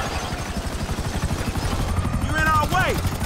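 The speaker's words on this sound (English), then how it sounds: "Take out that chopper!" Helicopter in GTA V during a raid, a loud rhythmic rotor thumping close by with someone shouting over it and brief sliding tones near the end.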